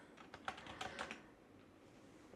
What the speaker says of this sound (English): I'm just going to type out what I want